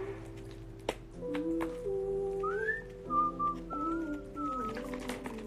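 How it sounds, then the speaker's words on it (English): Person whistling a tune alone, a clear melody of sustained notes with small pitch bends, close and fairly loud, with a few soft knocks in the background. "I just whistled the wrong note."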